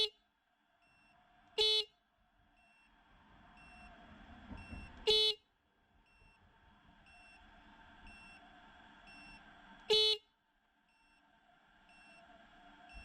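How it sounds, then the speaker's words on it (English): Three short, loud blasts from a PidZoom FH90 finger horn, spaced several seconds apart, each a bright buzzing tone, with a quiet hum between them. "Now we're going to hit the horn."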